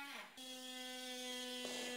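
A Ryobi ONE+ cordless oscillating multitool runs with a steady, close, buzzing whine that dips briefly as it starts and shifts slightly near the end. No one speaks.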